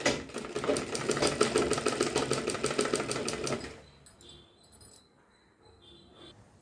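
A sewing machine runs a quick, regular burst of stitches while a sleeve is attached to a boutique-style lined blouse, then stops, leaving a few faint handling clicks.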